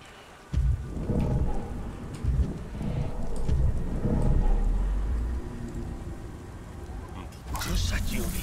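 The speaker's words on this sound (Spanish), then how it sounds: "Dichosa lluvia." Steady rain pours with low rumbles of thunder in the video game Beyond: Two Souls, while voices talk over the downpour.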